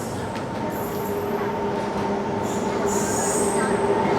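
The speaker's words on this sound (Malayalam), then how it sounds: "വിവേക് എക്സ്പ്രസ് കയറി വരുന്നുണ്ട്." The Vivek Express train pulling into a railway station on the Mangalore line, a loud steady rumble of rolling carriages with high squealing wheels and metallic screeches over it.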